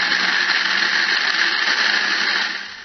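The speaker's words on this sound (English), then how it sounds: "Run the blender until the cashews feel smooth like creamy cheese." A blender purees cashews with lemon juice and water, a steady loud whirring that holds evenly for nearly three seconds before easing slightly at the end.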